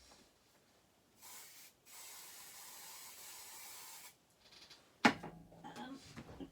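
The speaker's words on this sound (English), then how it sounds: "And just spray them over." Spray hisses onto paper butterflies in two soft, close bursts, a brief puff and then a longer steady spray of about two seconds. A sharp clack and light handling noises follow.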